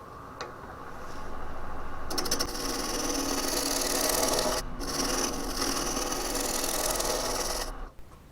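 Spindle roughing gouge cutting wood on a lathe for a tri-corner box: a steady, continuous rasping scrape with rough intermittent chatter, close and loud, running several seconds before cutting off abruptly, no talking.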